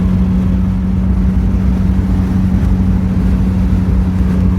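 A 1976 MG Midget's engine drones steadily and loudly from inside the car as it drives down the road, a constant low hum with no breaks.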